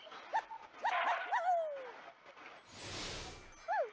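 Cartoon dog character in the Farm Heroes Saga mobile game gives a few short, bright yips and whimpering barks over game music, followed by a soft whooshing effect and one last yip.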